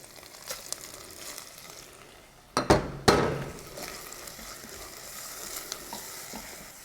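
Onions being stirred in a pan with pepper paste and tomato paste, a steady sizzle broken by a few loud scraping clatters of the spoon against the pan midway.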